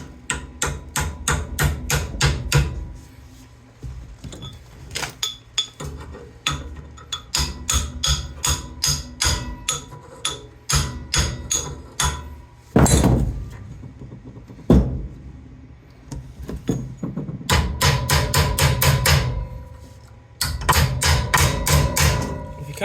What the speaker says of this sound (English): This is just adjustable with a hammer, you know.